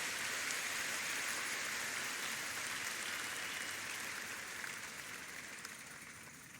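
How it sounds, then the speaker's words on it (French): A congregation at a church service claps in praise, a dense, continuous wash of applause that holds steady and then gradually fades toward the end. "Give the Lord a big hand of praise."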